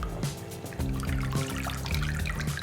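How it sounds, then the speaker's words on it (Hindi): Fresh spinach leaves being washed by hand in a vessel of water, like scrubbing clothes, giving steady sloshing, trickling and splashing with repeated dips and swishes, fairly close and continuous, with no talking. "पालक को लगभग 3 बार तो मैंने अच्छे से धोया ही धोया है"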